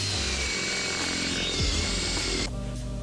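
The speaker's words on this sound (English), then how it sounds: "now I'm going to drill the hole." A power drill bores a hole while fitting out a style-side ute tub with a camping setup, a steady loud whirring grind that holds for about two and a half seconds before the pitch and tone abruptly shift.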